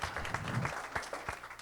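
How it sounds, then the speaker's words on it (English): A classroom audience of students and guests breaks into dense, steady clapping that fills the short moment, loud and close, without any talking over it. "Round of applause."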